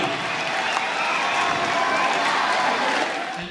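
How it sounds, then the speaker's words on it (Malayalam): Students at Mar Basil Higher Secondary School in Kothamangalam give their school's signature applause to welcome national-level athletes and coaches onto the stage, a dense, steady crowd clapping that runs continuously throughout. "നമ്മുടെ മാർബേസിൽ സ്കൂളിന്റെ തനതായിട്ടുള്ള ക്ലാപ്പ് നൽകി ഈ കുട്ടികളെ വേദിയിലേക്ക് ആനയിക്കണമേ"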